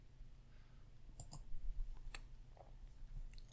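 Mouse clicks while working through a failover wizard, a few faint, sharp, isolated clicks spaced irregularly over quiet room background.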